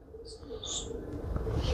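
Pigeons coo softly at a bird sanctuary sheltering injured birds, a few low murmuring calls close by over steady outdoor background noise.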